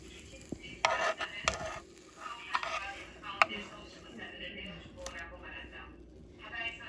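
An egg cooks on a small Dash mini griddle with soft sizzling and scraping, punctuated by a few sharp utensil clicks and taps, while a person talks over it.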